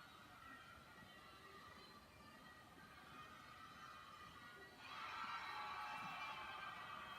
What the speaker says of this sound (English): The big cheer in the background from a nice stuck landing on the vault from Barbara Dykakis.